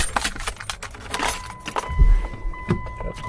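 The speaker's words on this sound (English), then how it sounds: "Get the keys out of my pocket." Keys jangle in short metallic bursts as they are pulled from a pocket beside a 1999–2007 third-generation Mitsubishi Montero/Pajero truck, close and clear with a low hum underneath.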